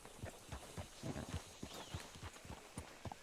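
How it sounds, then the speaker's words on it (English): Horse hooves clip-clop steadily at a walking pace in Red Dead Redemption 2, a close, even rhythm of soft thuds continuing throughout. "Hitch your horse up here"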